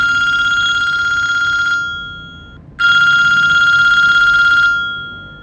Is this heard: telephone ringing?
yes